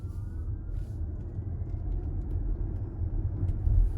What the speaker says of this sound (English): I'm just driving conventionally, just like a normal car